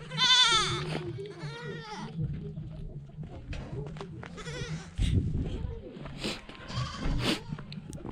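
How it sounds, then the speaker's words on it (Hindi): A goat bleats several times nearby on a cold, foggy mountain trek route toward Sandakphu, the wavering cries loud at first and then scattered among wind, footsteps and a voice talking. "बकरी की आवाज़ सुनाई दे रहा है"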